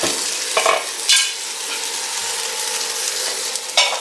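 Ghee sizzles loudly for smoky tandoori chicken cooked in a gas oven, a dense, continuous crackling hiss with a few sharper surges of spitting and stirring.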